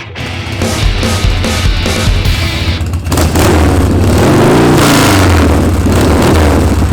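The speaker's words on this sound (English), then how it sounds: "a 80-inch Harley Evolution motor in a rigid Paughco frame" An 80-inch Harley Evolution V-twin in a rigid Paughco-framed chopper, loud and close, shifting from choppy bursts into a sustained rising and falling rev with a deep rumbling throb.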